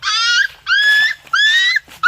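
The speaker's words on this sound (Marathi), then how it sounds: "छोटासा पिल्लू आहे. हार्डली महिन्याभराचं असणार आहे." A small puppy, about a month old, whimpers in three high, drawn-out whines with brief pauses between, close and fairly loud, no voices.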